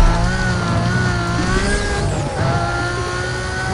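Need for Speed Most Wanted (2005) car sliding across the road in the racing game, a steady loud engine drone with smeared tire-scrub noise and a brief skid swell, no talk.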